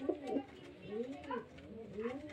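Pigeons from a pair kept for sale give soft, low, rolling coos, repeated in gentle rising and falling phrases, close by and fairly quiet.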